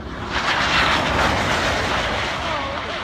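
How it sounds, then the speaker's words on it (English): A Bugatti car passes above 250 mph with a loud, steady, jet-like roar that fills the whole clip without a break. "This Bugatti sounds like a jet at speeds above 250 miles per hour."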